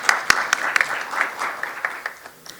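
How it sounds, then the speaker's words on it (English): Audience at a journalism conference on the AI era applauds, a short burst of many hands clapping close by that thins out and fades within a few seconds. "Please give her a round of applause"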